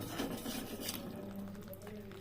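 A spoon steadily stirs and scrapes through thick rohu fish gravy as it cooks down in a pan, with continuous close metallic scraping and a low background hum.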